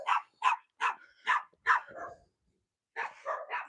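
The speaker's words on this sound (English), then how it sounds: "that particular yap, where it's just a little yappy thing" A small dog yaps in a quick run of five or six sharp, high barks, then pauses and gives a few more close, clear yips.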